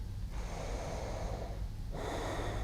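A yoga instructor takes audible breaths during a beginner session, two soft close breaths, a long exhale then a fresh intake, quiet and without talk.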